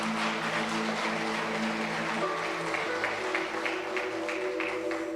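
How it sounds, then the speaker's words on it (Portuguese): A church congregation applauds at a worship service, a steady wash of clapping heard at moderate level throughout, with a sustained tone from musical accompaniment underneath. "Você pode aplaudir bem forte"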